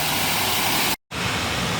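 Water flows steadily and loudly as a broad, continuous rush, broken by one brief total dropout near the middle before the same rushing resumes.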